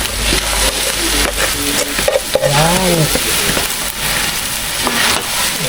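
Glutinous rice being stir-fried in a pot, with continuous sizzling and scraping stir strokes close up, and a brief voice over it.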